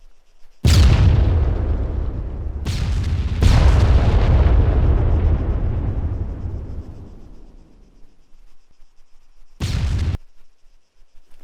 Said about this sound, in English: So we'll see some secondary explosions come here in a second.